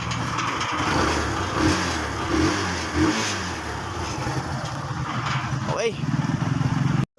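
A motorcycle engine runs steadily at close range after a hard-starting problem is fixed, with a voice talking over the idle and a brief rev near the end before it cuts off.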